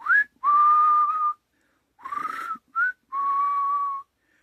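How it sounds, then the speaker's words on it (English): A person whistles a short tune of sustained, slightly rising notes in about five separate phrases with gaps between them, clear and close, with no other sound. "Having a hard time whistling."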